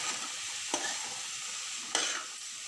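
Boiled chickpeas being stirred in a pan with oil, a continuous bright sizzle with two short scraping strokes of the spoon, close up and with no voices.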